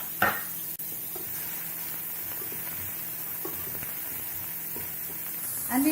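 Chopped onion sizzling in hot oil with cumin seeds in a pan, a steady low hiss with a few light stirring knocks and a brief clatter near the end.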